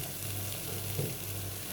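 Dal ingredients with tomato sautéing in a pan in a Maharashtrian kitchen, giving a steady, soft sizzle and frying hiss with a faint stir partway through.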